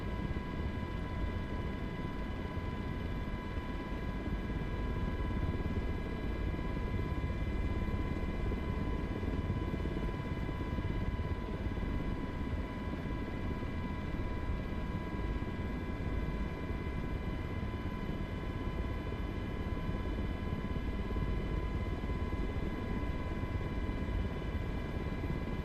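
Miltech MH60 helicopter in a VR flight simulator, a steady, loud rotor and turbine drone with constant whine tones holding unchanged throughout, no talking.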